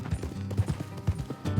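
Horse hooves clip-clopping in Red Dead Redemption 2, a steady rhythmic series of soft thuds at close range, several strikes spread evenly through a short moment with a low background rumble.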